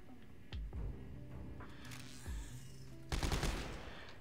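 Weapon fire in Dead Space 3, a few short gun bursts with sharp thuddy impacts spaced across the moment, then a denser rattling burst near the end, over low ambient game noise.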